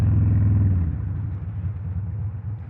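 An Indian Chief motorcycle engine with a 2-into-1 exhaust rumbles loudly with a deep, throaty exhaust note that settles into a steady, lower drone, with no one speaking.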